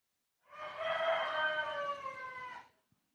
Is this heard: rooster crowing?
yes